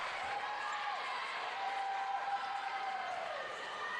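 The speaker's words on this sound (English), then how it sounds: "a huge ovation from the crowd" Crowd applause at a women's college basketball game between Saint Martin's and Northwest Nazarene, a steady broad ovation filling the gym for the full stretch, with faint squeaking tones drifting over the clapping.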